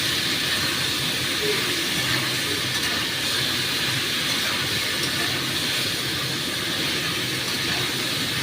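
Kudru, ivy gourd, frying in a pan with chilli, a loud steady hiss and sizzle that fills the whole stretch without breaks, close by and with no voices over it.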